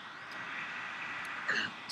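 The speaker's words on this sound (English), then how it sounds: "Sorry about the noise, that's the fan of my computer." A computer's cooling fan gives off a faint, steady whooshing hiss, continuous and even for the whole short stretch.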